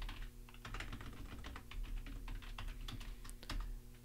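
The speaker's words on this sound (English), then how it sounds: "I'm going to type in a password" Password being typed on a computer keyboard during an Ubuntu server user setup: a steady run of quick, light key clicks close to the mic over a low constant hum, with no voices.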